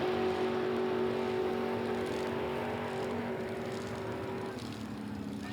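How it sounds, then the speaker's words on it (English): A 1955 Chevrolet 210 at a drag race produces a steady, faint engine drone with a humming tone heard from a distance, easing slightly near the end. "Going up against that beautiful 55 Chevrolet in lane number 2."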